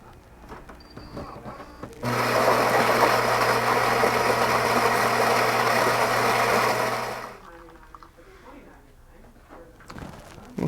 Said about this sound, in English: Next up is the Philips 3200, lower price machine than the Miele,